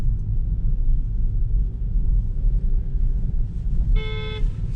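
A car horn blares from a following vehicle, one short loud honk near the end over a steady low rumble of road and engine noise inside a moving car.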